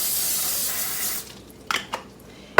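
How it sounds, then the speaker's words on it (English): A steady cooking-spray aerosol hisses onto a pan for over a second, then stops, followed by a few light clinks and taps of cookware. "spray my pan with some cooking spray"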